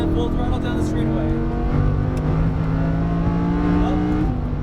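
A Lamborghini Huracán at full throttle on a racetrack, its engine note rising steadily in pitch with loud, continuous harmonics and a brief shift near the end, heard up close from inside the car while a voice talks over it.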